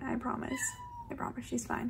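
A pet cat meows several times in short, close, insistent calls, interleaved with someone talking reassuringly.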